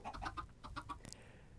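Chickens in Minecraft give a quick run of soft, clipped clucks, close by and fairly quiet, with no talking.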